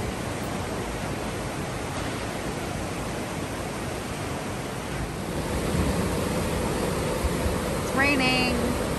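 Steady broadband rush of rain falling over the ocean and waves at a Mazatlan beach resort, a constant roaring wash with no breaks, growing slightly louder toward the end.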